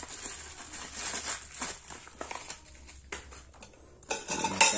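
A new metal spoon and fork for camp cooking are handled in their packet, clinking and rattling in short bursts at close range, the clatter louder near the end.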